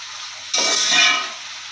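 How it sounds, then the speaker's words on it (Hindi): Chopped onions hit hot ghee partway through, with a sudden bright sizzle that swells briefly and then settles into a steady frying hiss. "इसको हल्का सा जो है हम करेंगे घी में फ्राई।"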